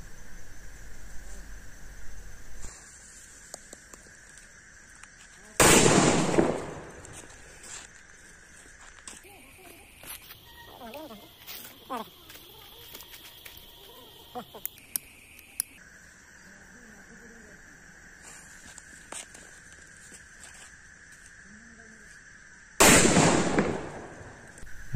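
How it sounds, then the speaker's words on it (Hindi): Two loud, close firecracker blasts from ball-type Diwali bombs, one early and one near the end, each a sharp burst; between them come faint whistles, hissing and scattered pops from other fireworks nearby. "नेक्स्ट आता है हमारा ये बॉल टाइप का बम"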